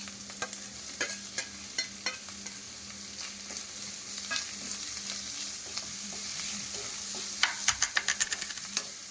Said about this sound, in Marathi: आता आपण याच्यामध्ये जरासा कांदा आपला लाल झालेला दिसतोय, टोमॅटो टाकून घेऊ.